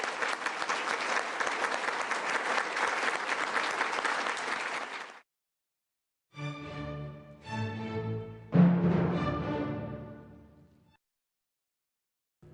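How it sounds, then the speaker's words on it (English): An audience applauds for President Preckwinkle, loud dense clapping for about five seconds, then a pause and a few shorter, uneven bursts of clapping with voices mixed in before it fades out. "So let's give her a big round of applause."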